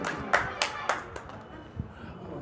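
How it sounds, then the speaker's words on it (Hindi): Scattered hand claps ring out at a mushaira poetry gathering in Bihar, a few separate sharp claps in quick succession, fairly close and moderately loud, then fading into low background murmur. "जोरदार तालियां बजा देंगे दोस्तों"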